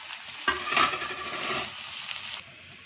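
Chopped chicken pieces tossed into fried onions with ginger, garlic and green chilli paste for palak chicken, sizzling and frying steadily while being stirred, with a sharp burst of crackle at the start and a clear, close sizzle throughout.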